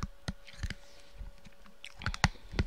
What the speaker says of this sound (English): Sorry if you guys can hear me chewing on something. I'm having a candy stick.